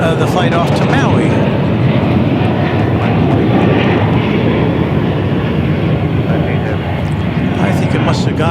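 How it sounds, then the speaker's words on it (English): A jet airliner departing on a flight to Maui at DFW Airport, a loud continuous engine roar filling the whole stretch, with a voice talking over it. "I believe this to be the flight from the flight off to Maui."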